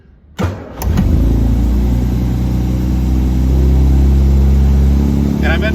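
A 1967 Austin Healey 3000 MkIII starting from cold in neutral with the clutch in: a short cranking burst, then the engine catches and settles into a loud, steady, rumbling idle that continues to the end.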